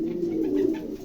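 Maltese pigeons kept for sale coo close by, a low throaty rolling call running steadily through the moment.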